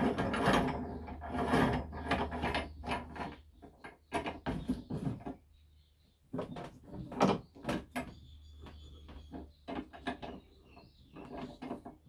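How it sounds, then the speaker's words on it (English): A clamp screwed by hand onto a threaded pipe, producing close, quiet bursts of scraping, clicking metal-on-thread friction in irregular clusters with a short pause midway. "I'm just going to try and screw a clamp on it."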